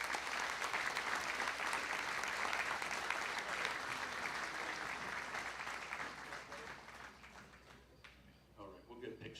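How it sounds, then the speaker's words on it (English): Audience at a county junior fair royalty contest and opening ceremony breaks into sustained applause, a thick steady clapping that fades over the last few seconds as talk begins. "let's give him a round of applause"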